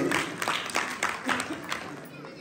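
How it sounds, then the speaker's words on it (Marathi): A crowd at a Home Minister game show event in Chambli claps together in a short burst of applause, fairly close, mixed with some voices. "जोरात टाळ्या वेगळी झाल्या पाहिजे"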